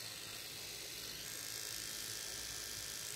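A Syska FT006 female facial hair trimmer runs with a faint, even electric hum that holds steady, then ends in a short louder click.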